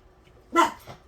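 A single short, sharp dog bark comes from indoors, brief and moderately loud against a quiet background.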